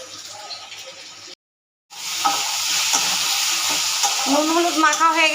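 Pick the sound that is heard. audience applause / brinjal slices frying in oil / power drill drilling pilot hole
brinjal slices frying in oil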